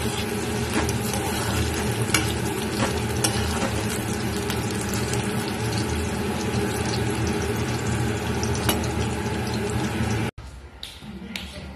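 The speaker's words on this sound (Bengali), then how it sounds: "এখানে বসিয়ে দিয়েছি আলু ভাজা" Potatoes frying in hot oil in a home kitchen give a steady, close sizzle with occasional stirring taps, ending in a brief pause and a quieter stretch.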